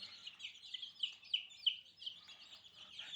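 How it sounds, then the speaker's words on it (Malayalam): Week-old black-and-white speckled country chicks cheep in quick, high peeping calls, several overlapping in a lively, irregular chorus close by. "ഇത് നല്ല വൈറ്റ് ഷെയ്ഡ് വരുന്ന ബ്ലാക്ക് ആൻഡ് വൈറ്റ് പുള്ളിക്കോഴി കുഞ്ഞുങ്ങളാണ്"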